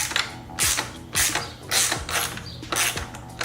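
Repeated bursts of a 17mm ratchet tightening a motorcycle frame slider bolt, five rhythmic clicking strokes about a second apart with brief pauses between, close and loud with no voices.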